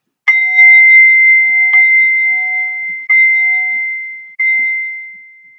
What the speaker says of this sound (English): we will open up the session with the bells